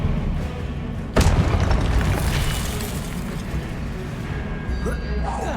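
Spell blasts in the video game Hogwarts Legacy: a sudden sharp boom erupts early and rolls into a dense, loud crackling rumble of combat effects, with a voice casting spells throughout.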